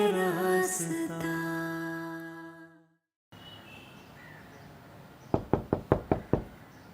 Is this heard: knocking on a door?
yes